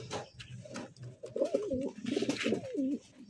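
Pigeons give soft, rolling coos close by, several overlapping throaty phrases in a row, with faint rustling in their cage.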